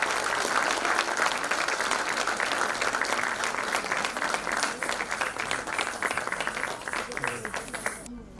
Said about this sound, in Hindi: एक बार इन छोटी छोटी बच्चों के लिए तालियां हो जाए।